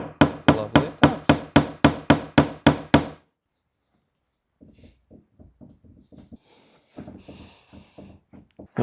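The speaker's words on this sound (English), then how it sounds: "we will try to give little lovely taps" Roughly a dozen quick, evenly spaced metal taps strike a car's central lock mechanism on a BMW E91, loud and close, then stop; after a pause come softer scattered knocks and handling clatter, with no talking.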